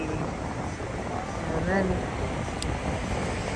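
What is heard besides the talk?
strong wind on a beach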